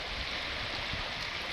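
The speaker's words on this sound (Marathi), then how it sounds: "मस्तपैकी मुळा नदी वाहते आपली" The flooded Mula river rushes past in a steady, broad wash of flowing water, close and continuous with no voices.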